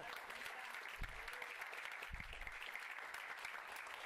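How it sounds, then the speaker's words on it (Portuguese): Congregation applause at an evangelical church service in Portuguese, a soft, steady rain of clapping heard from some distance, with low thumps breaking through twice. "Pode aplaudir o Senhor"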